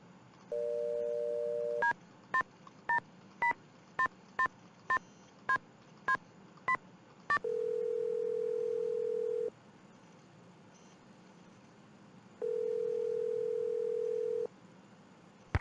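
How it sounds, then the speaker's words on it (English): Telephone in the Nancy Drew game Stay Tuned for Danger: a steady dial tone, then a quick run of about a dozen evenly spaced keypad tones, followed by two long ringback-style tones, all clear with no talk. "I'm gonna try calling Bess in the evening"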